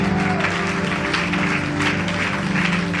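Church congregation clapping and cheering in praise of the Lord during a charismatic worship service, a steady dense wash of applause with a sustained musical drone underneath throughout.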